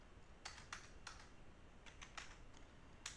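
Sparse clicks of a computer keyboard as someone types a short word during a programming lesson, quiet keystrokes in small bursts with pauses, close and alone without talk.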